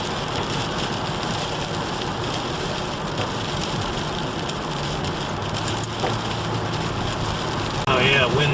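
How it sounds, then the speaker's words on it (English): Steady, dense rain noise fills the whole stretch, with a low rumbling hum beneath it and a brief splashing burst near the end. "Estimated 3 to 5 inches of rain out of this system"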